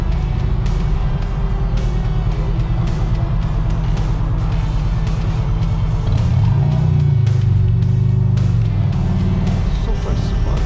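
Hurst-equipped Pontiac GTO muscle car rumbling past at a cruise-in, a steady loud low engine drone that swells as it passes nearby, with talk in the background.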